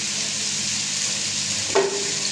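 Potato pakoras fry in hot oil in a kadai, giving a steady, close hiss of sizzling oil throughout, with one brief knock near the end.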